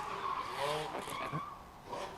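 A drifting car's tires skid and squeal in a wavering screech at a moderate distance, with the car's engine underneath.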